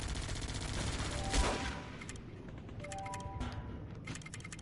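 Gunfire in the Guns Up video game battle as machine gunners are taken out, a dense rattling fusillade of shots that swells at the start and then keeps crackling in quick bursts.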